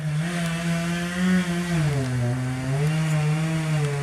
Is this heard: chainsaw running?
yes